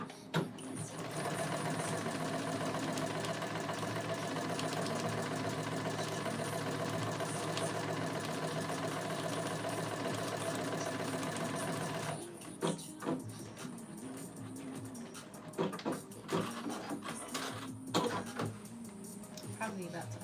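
A sewing machine stitches in a fast, steady close whir for most of the run, then stops, leaving scattered clicks and handling sounds.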